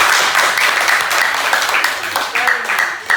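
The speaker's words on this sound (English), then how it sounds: "let's give a big clap" Students in a classroom break into a brief round of clapping, a dense, fairly loud patter of many hands with no talk over it.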